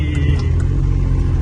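A new car's engine rumbles low and steady from inside the cabin as it is driven, a continuous close hum with no talk.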